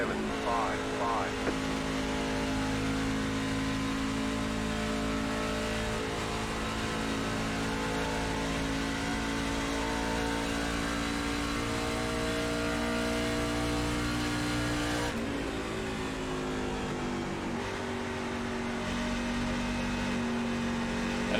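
A race car engine in iRacing at Darlington Raceway holds a continuous, fairly loud drone throughout, its pitch shifting midway as the car changes speed.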